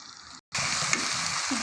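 Keema mince with masala sizzles in a pan, a close, steady frying crackle broken by one brief moment of silence before it resumes.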